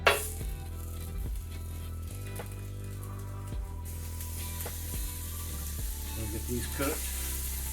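Sausage patties sizzle steadily in a hot pan for gravy and biscuits, a continuous frying crackle with occasional clinks, while a voice speaks briefly near the start.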